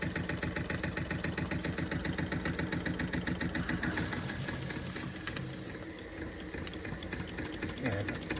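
An Empire B42 model steam engine, freshly restored, runs on steam with a fast, steady mechanical chuffing and hiss close by, continuing evenly throughout with slight variation near the end.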